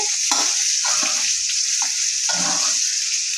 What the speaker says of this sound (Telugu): చూసారా, ఆయిల్లో ఇలా ఫ్రై అవ్వాలి.